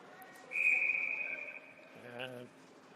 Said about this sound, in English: that'll get a whistle.